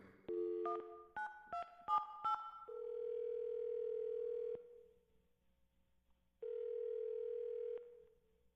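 A phone number is keyed in as a quick run of touch-tone beeps, followed by two long, steady ringback tones separated by a pause, clear and close with no voices.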